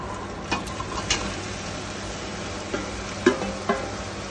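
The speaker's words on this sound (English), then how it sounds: "I just need to mix with the kingfish head" A spoon stirs a pre-fried kingfish head in a pan over medium heat, giving a soft, low scraping with a few light clicks and scrapes against a quiet background.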